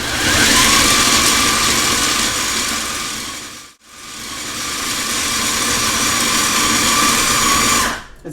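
An electric grinder finely grinding coffee roars loudly and steadily at close range, cutting out for a moment near the midpoint before starting again and running until it stops just before the end.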